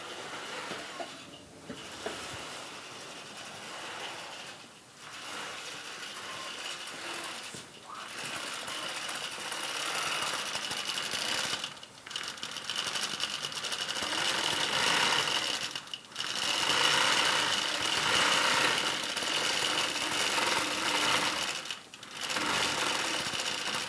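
A computerized sewing machine stitches out a quilting row on a baby quilt, running as a steady, close, fast whir that stops briefly for short pauses every few seconds before resuming.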